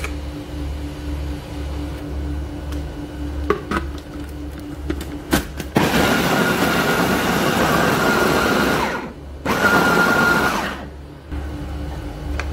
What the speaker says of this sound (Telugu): వేసి మిక్సీ కొట్టుకోవాలి.